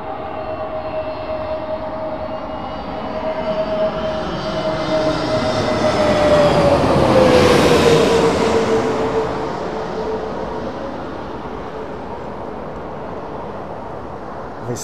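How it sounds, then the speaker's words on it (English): Qatar and Emirates A380 airliners arriving into Heathrow pass close overhead, the engine roar swelling to a loud peak with a falling whine, then fading away as the aircraft recede. "So we've got Qatar and Emirates 380s literally chasing each other into Heathrow"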